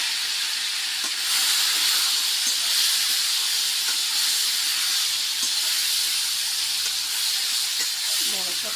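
Pineapple added to hot oil with mustard seeds for a spicy chutney, giving a loud, steady hiss and sizzle that holds throughout, with faint popping and a few scraping sounds and no talking.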